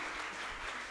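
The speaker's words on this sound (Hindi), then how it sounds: "जोरदार तालियां।" A crowd claps steadily at a 2025 divisional-level national population education project awards event, a dense, even burst of applause lasting under a second with no voices over it.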